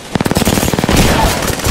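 Rapid bursts of video game gunfire rattle out in quick succession, loud and close, with short automatic volleys that trail into a sustained noisy wash.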